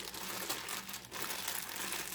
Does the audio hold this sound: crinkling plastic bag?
yes